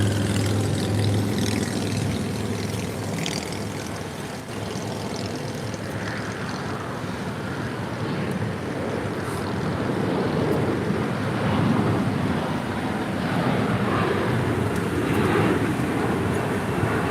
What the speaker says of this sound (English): That departure on 7 left is Alaska SkyWest Flight 3452